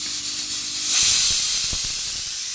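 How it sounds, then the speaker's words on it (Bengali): Pressure cooker on a home stove boiling potatoes and bitter gourd, releasing a steady, fairly loud hiss of steam that swells about a second in and holds on, with a few soft knocks underneath. "প্রেশার কুকারে একটু আলু উচ্ছে ঝোল করবো আজকে তাই সিদ্ধ বসিয়ে দিয়েছি"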